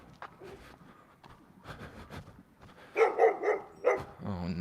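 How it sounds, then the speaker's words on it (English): A neighbourhood dog barks outdoors, a cluster of loud barks near the end after quieter rustling, with distant ambient noise. "That dog barks at me all the time."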